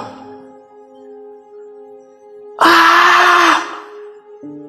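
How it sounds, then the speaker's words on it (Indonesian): A loud woman's scream bursts out for about a second, shrill and sustained, after a stretch of quieter tonal sound. "terdengar suara teriakan wanita yang keras"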